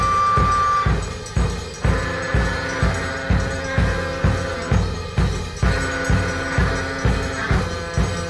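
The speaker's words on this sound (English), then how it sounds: "He once made an entire studio album about the Iranian religious finder Zarathustra" A studio album piece about the Iranian religious founder Zarathustra, a steady, loud musical passage with a regular beat of strong percussive hits under sustained tones, running throughout without any voices.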